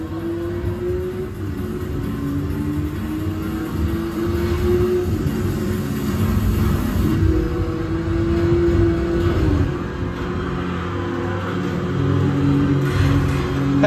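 A car engine revving in a PlayStation 5 driving game, a loud, continuous drone whose pitch rises and falls as the car speeds up, heard alone without speech.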